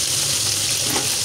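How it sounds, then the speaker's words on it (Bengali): Fish pieces frying in a pan give a steady, close sizzle with bright crackling throughout, loud and continuous with no talk. "মাছগুলো এখন খুব সুন্দর করে আমি ভেজে নিব"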